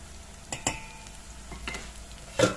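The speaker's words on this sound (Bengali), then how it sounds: "এখন একটু নেড়ে চেড়ে নিব।" Spices for a fish curry stirred in a pan make faint sizzling under a few sharp spoon-against-pan clicks, with a clearer scrape near the end; quiet and close, with no talking.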